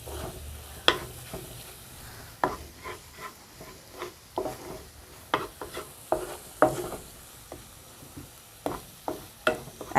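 Chicken pieces are stirred with ground cumin, coriander and garam masala in a hot frying pan: a soft, steady sizzle runs under repeated scraping knocks of the spoon against the pan, close and irregular, with no talking.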